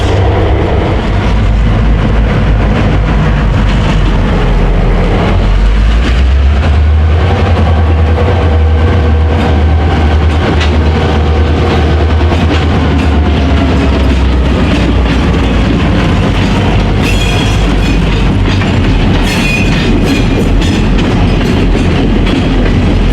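An AF-5 freight train with a caboose rolling past close by, heavy low engine rumble and steady clickety-clack of wheels on rail joints, loud and continuous throughout with no talk.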